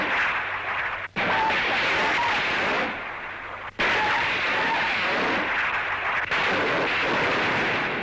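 Rocket launchers firing from a large landing craft converted to a warship, as heard in a 1946 newsreel: sustained loud roaring salvos that break off briefly twice before resuming, with a faint narrator's voice beneath.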